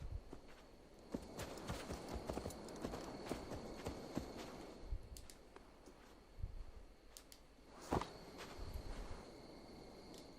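Horse hooves clip-clopping in an uneven walking rhythm over a constant background of insects chirping, with a few sharper clatters, in the video game Assassin's Creed Valhalla.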